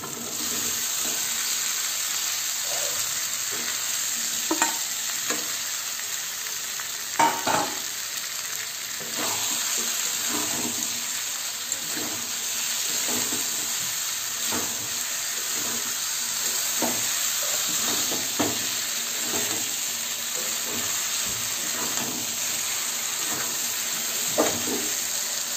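Fried potatoes, pointed gourd and prawns cooked in spice paste in a pan: an ongoing sizzle with intermittent scraping stirs and soft clunks, close and steady, no speech.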